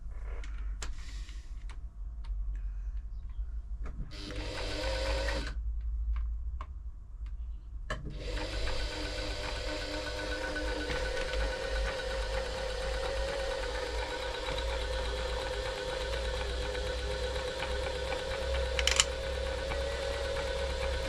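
A Riccar 8400 sewing machine, dry and unserviced for about fifteen years, runs in bursts at first and then continuously with a steady mechanical hum and tick, close by and alone.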